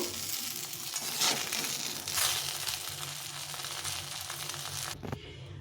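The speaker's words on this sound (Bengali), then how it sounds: "এখন এই তেলের মধ্যে আমি বেগুনটা একটু ভেজে নেব" Eggplant fries in mustard oil in a pan, a quiet steady hiss of sizzling with a couple of brief crackling swells and a short clunk near the end.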